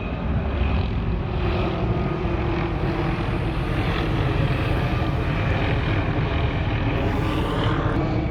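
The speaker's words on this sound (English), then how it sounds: "There's a helicopter." A helicopter flying overhead gives a continuous, loud engine and rotor drone with a rough, rumbling texture that holds steady throughout.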